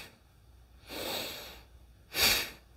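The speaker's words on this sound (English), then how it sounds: "we're going to exhale forcefully, drawing the belly button in and immediately inhale forcefully" Two forceful bellows breaths of Bhastrika pranayama, a long rushing exhale-inhale followed by a sharper, louder burst of air through the nose, close and alone.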